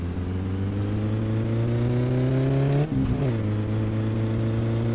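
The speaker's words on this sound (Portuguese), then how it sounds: "o carro tá ligando muito rápido, é só dar uma mexida na chave ali e já liga" The car in My Summer Car idles and revs, its engine tone climbing steadily, then briefly dipping and catching before settling into a steady, loud mid-pitched drone with no talking over it.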